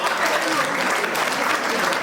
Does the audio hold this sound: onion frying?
no